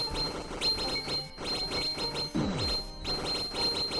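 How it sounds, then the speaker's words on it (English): An alarm clock goes off with a repetitive electronic beeping pattern, moderately loud and steady, punctuated by brief gaps and clatter. "My alarm is going off."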